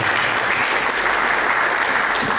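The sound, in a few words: congregation louder applause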